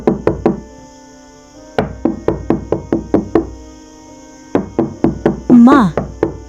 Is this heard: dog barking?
no